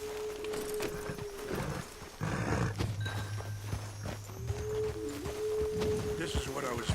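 A horse in the video game Red Dead Redemption 2 clip-clops in footsteps, mixed with game music tones and other in-game sounds.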